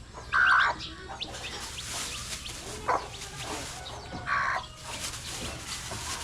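Chickens and ducks cluck and squawk while being fed, in short loud bursts over a steady farmyard background.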